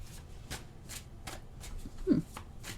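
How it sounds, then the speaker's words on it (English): Soft riffling and flicking of tarot cards being shuffled, several quick brushes in a row, quiet and close with a faint murmur nearby. "We're just going to shuffle a bit and see if any cards come out right away"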